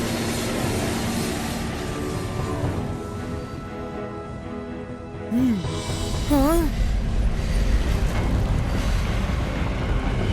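A train in the animated children's cartoon Rudra: Boom Chik Chik Boom rumbles continuously along the tracks with a loud, steady roar, and a brief rising whistle-like toot sounds toward the end.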